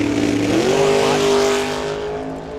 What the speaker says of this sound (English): Phil Garrison with that Camaro in the right lane